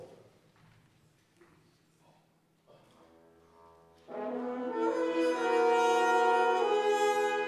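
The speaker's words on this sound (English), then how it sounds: "the angelfish, which is represented by a cluster of chords in the brass and woodwinds" A concert band's brass and woodwinds swell into a sustained chord cluster played with straight, cup and harmon mutes, entering softly with faint scattered sounds before building to a bright, loud held chord.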